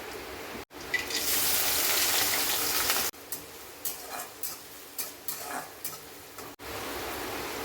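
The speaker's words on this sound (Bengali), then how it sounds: "রসুন আদা আর কাঁচা লঙ্কা চপ করে নিয়েছি এবার এটা তেলের মধ্যে দিয়ে দেবো" Chopped garlic, ginger and green chilli tipped into hot oil for a Bengali-style squid roast, giving a loud steady sizzle that drops away, then returns as a softer crackle with repeated stirring scrapes before the full sizzle resumes.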